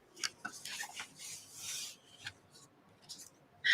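Shaving cream is scraped off a surface for a tie-dye effect, several short rasping scrapes and rubs at close range, separated by quiet gaps, ending in a louder scrape.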